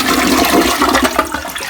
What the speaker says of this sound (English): I'm going to go ahead and let's flush it